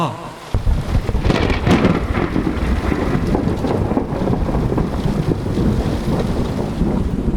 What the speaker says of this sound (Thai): ฝนตกกระหน่ำจนแทบมองไม่เห็นกันและกัน